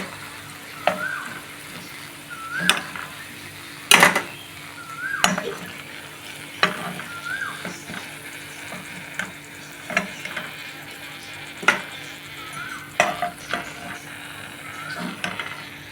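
Sweet gujiya frying in oil over a low flame, a gentle steady sizzle punctuated by clinks and scrapes of a slotted spoon against the pan, no one speaking.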